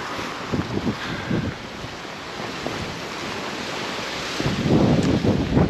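Strong wind blasting across the seafront at Palmanova, Mallorca, roaring steadily into the microphone with gusts that swell louder toward the end, surf washing in the background and no talking.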